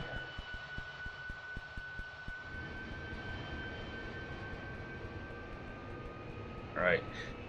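Harrier jet engine in DCS World spooling up as the throttle is raised: a low pulsing rumble gives way to a steady rising whine and roar, moderately loud and continuous, with a short chirp near the end.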